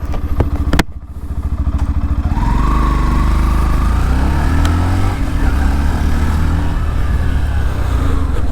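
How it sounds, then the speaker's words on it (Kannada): A Yamaha FZ V3.0 motorcycle's exhaust note while riding: a sharp transient at the start, then a loud, steady engine drone that rises in pitch as the bike pulls away and holds on, close and alone. "ಸಕ್ಕದಾಗಿದೆ ತಾನೇ ಎಕ್ಸಾಸ್ಟ್ ನೋಟು"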